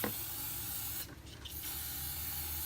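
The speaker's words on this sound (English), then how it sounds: "So I'm just going to spray a bunch of this degreaser in there." A long hiss of aerosol degreaser sprayed into a STOCKade ST400 fence stapler, with a brief pause partway through, then the spray resumes, steady and close.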